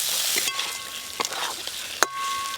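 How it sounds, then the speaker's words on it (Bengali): Pointed gourd frying in mustard spice paste in a village kitchen, a steady soft sizzle with a few light stirring scrapes and clicks, fairly quiet and without talk. "এই মশলার সঙ্গে কষছি, পটলের মধ্যে ভালো করে মশলাগুলো ঢুকবে।"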